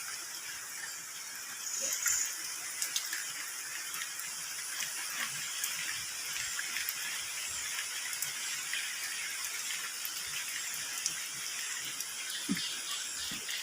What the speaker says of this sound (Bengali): পানি যাইতেছে